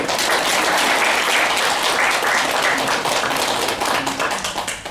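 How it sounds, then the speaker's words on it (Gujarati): An audience at a business meeting breaks into loud sustained applause, dense hand clapping from many people that holds steady before starting to taper near the end, with no talk over it. "આમની ઓનેસ્ટી માટે જોરદાર તાળીઓ."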